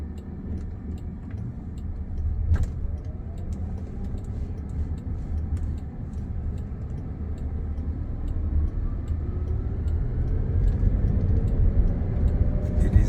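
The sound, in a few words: Waymo self-driving electric car driving in traffic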